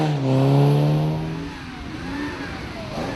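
A rally car pulls away on a hill at a hairpin, its engine revving hard with a rising then falling pitch, fairly close, fading into the night-stage ambience.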